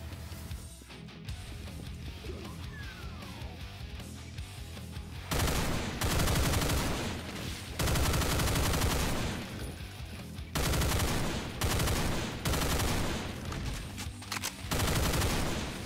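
Doom played with the Project Brutality mod erupts in bursts of rapid automatic gunfire, loud repeated volleys separated by short quieter gaps, with no talking.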